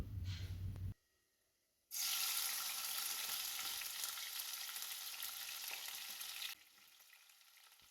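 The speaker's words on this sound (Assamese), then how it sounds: "পিঁয়াজখিনি মই একদম ৰঙাকৈ ভাজি ল'ম" Onions frying in a pan for egg curry give a steady, close sizzle after a brief quiet gap, with clattering dishes and running water from a filter in the background.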